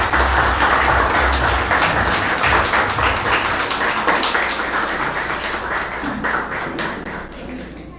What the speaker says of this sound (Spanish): fuertes los aplausos para recibir a nuestra nueva soberana